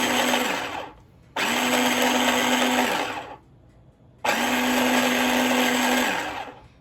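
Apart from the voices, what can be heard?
blender mincing food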